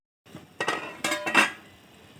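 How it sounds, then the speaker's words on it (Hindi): A lid placed on a pot of moong dal, a few close metallic clinks and clatters as it is set down and adjusted, clear and fairly loud, then fading out. "अब इसे हम ढक देंगे।"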